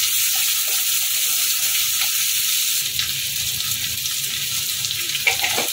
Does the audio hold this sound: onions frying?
yes